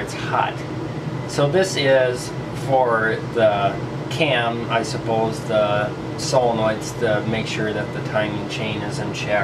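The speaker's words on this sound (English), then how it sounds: "And sorry for that noise. Bear with me. That is the air conditioner." An air conditioner runs as a steady background whir while someone talks over it, describing the engine parts of a 2016 Toyota Corolla LE Plus.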